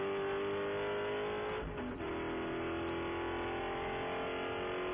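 Spec Corvette race cars drive around a damp track at Virginia International Raceway, a loud, sustained engine drone close to the microphone with a brief shift in pitch partway through.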